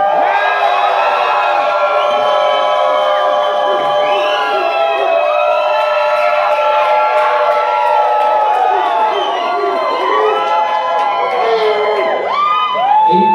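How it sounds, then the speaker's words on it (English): A large crowd at a company event cheers and whoops loudly and steadily for over ten seconds, many high voices shouting together in a dense, continuous roar. "I need everybody that is Best Buy related to cheer real loud for just a second"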